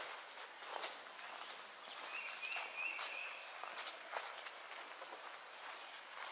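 A tufted titmouse calls in a trail forest on the Appalachian Trail, with faint whistled notes that turn into a clearer repeated series of calls above soft footsteps and rustling.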